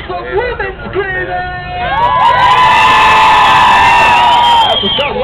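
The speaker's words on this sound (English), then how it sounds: "I want to hear some women screaming!" A large live crowd of women screams and cheers at a front flip show, rising from scattered shrieks and babble into a loud, sustained, high-pitched roar that holds for several seconds.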